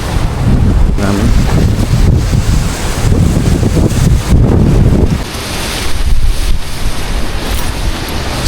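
Santa Ana windstorm in Southern California buffets a DJI Action 5 Pro camera microphone, producing loud, continuous low rumbling gusts and roaring wind noise throughout, with no speech.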